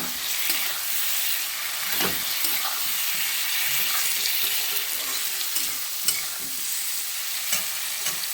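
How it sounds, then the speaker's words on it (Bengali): Fried potatoes stirred through spice paste in an oily pan for a Bengali lentil-fritter curry, giving a steady sizzle and hiss with repeated scraping, clinking stirs throughout, close and fairly loud. "ভাজা আলুগুলো দিয়ে আরেকটু কষাবো।"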